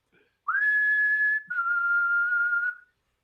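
A person gives two long whistled notes as a signal, the first slightly higher and the second a bit lower, clear and close with a short gap between them.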